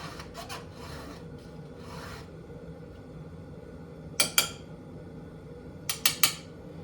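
A STIHL HEXA file rasps along a chainsaw chain in quiet, repeated strokes, followed by a few sharp metallic clinks, close and fairly faint.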